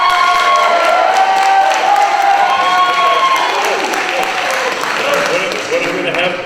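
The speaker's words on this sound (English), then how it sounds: "hold your applause" Debate audience at a 2014 candidate forum applauds and cheers loudly and steadily, with whoops and crowd noise, while voices talk over the din throughout.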